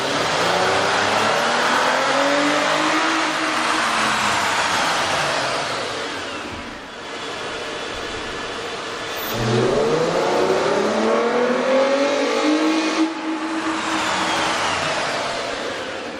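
A car fitted with a K&N 69-8618TS cold air intake revs loudly and up close, its engine note climbing and falling in two long surges, with no talking.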